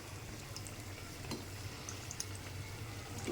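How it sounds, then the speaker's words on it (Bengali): A stuffed paratha fries in hot oil in a wok, a soft, steady sizzle with faint crackles, quiet and close, with no talking. "কড়াই গরম হয়ে গেছে, তেল দিয়ে ভাজা দিয়ে দিয়েছি"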